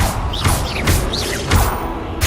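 In Hogwarts Legacy, a Confringo blast spell fires as a series of three whooshing bursts with swooping, whistling tones, each surging and fading over roughly two seconds.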